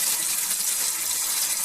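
Water from a tap runs steadily into a utility sink with its strainer in place, a close, even rushing splash with no voices.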